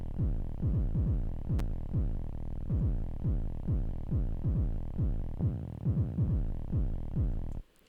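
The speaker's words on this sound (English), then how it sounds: "I have taken the kick drum through my external distortion pedal, my MF Drive, which sounds like this." A kick drum run through an MF Drive external distortion pedal repeats in a steady, fast rhythm, each hit a heavy, gritty, booming thump with a dense saturated tail, loud and alone throughout.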